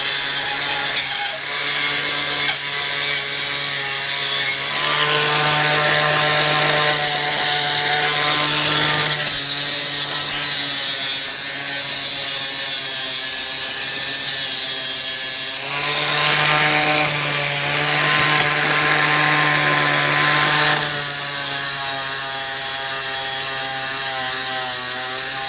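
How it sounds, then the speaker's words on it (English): An angle grinder works over the flaky, rusted exhaust of a barn-find Mercedes 190E. It gives a loud, steady whine that runs almost without a break, its pitch dipping and rising as the disc bites into the metal. No one speaks. "I'm going to get a grinder out, we're going to prep the surface better and get welding."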